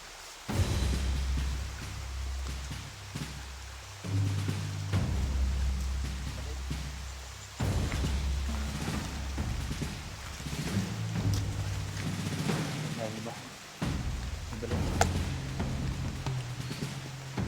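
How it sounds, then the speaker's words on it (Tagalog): Heavy rain in a video game pours continuously, with low rumbling bursts that rise and fall every few seconds, steady and loud throughout. "lakas ng ulan guys, oh"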